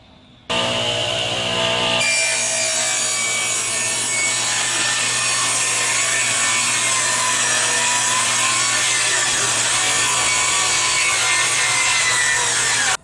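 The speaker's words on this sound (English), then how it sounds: "we're going to saw it off so it will be a flat surface" A handsaw cuts off the protruding wood along the edge of a reclaimed window frame for a greenhouse build, steady continuous rasping strokes, close and loud, running almost the whole time with no talking.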